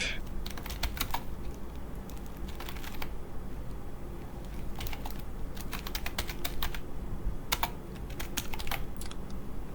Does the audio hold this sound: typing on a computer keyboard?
yes